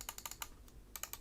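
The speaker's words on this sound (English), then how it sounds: "Starting with the left click" The left button of an MSI Versa 300 Elite wireless gaming mouse clicks repeatedly, producing crisp, close, quiet clicks in small bursts with a short pause in between.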